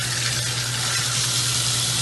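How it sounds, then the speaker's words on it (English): Water runs steadily from a bathroom faucet with a plumbing fault, a continuous close hiss with a low hum beneath, no voices. "from the faucet, we got water coming out here"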